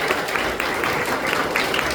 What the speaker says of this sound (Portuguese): eu gostaria de uma salva de palmas para o Ian